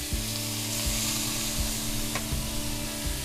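Steady, crackling sizzle of chicken frying in a hot pan, with a few soft scraping taps from stirring, close and constant.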